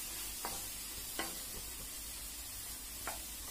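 Jaggery melting in a kadai while being stirred, a quiet hiss with a few soft spatula scrapes spaced a second or so apart, faint and close with no speech.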